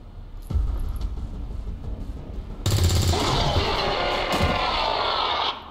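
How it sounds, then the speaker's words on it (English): Weapon gunfire in the video game XCOM 2, a loud sustained burst of rapid shots with heavy rattling and booming impacts lasting several seconds, following a brief single report and low rumble. "So let's fire the weapon."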